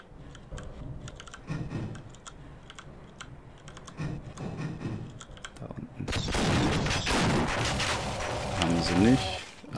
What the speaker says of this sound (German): So, und dann werfen wir doch einfach mal 1, 2, 3, 4, 5 von denen hier runter. Warten, bis die 5 explodiert sind.